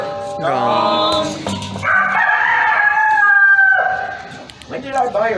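A rooster crows loudly and close by, a long drawn-out cock-a-doodle-doo with a few clucks near the end.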